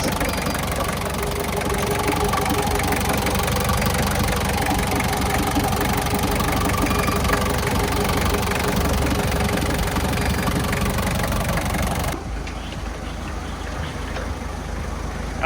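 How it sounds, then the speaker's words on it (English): An old diesel engine in a classic Range Rover idles steadily and loudly with a rough, knocking chug, then drops suddenly to a slightly quieter, duller rumble near the end. "he's idling by herself on the old diesel"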